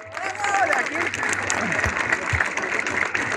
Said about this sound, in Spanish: Solo aplausos, mis amigos.